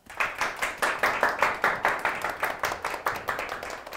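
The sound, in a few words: audience applause welcoming a speaker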